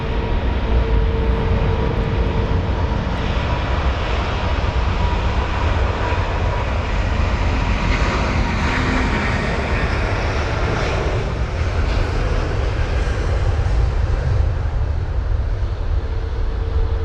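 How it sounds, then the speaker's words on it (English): A British Airways Airbus A350 departs from London Heathrow with a loud, continuous roar of jet engines that holds steady throughout, without voices. "our next departure is going to be a BA 350."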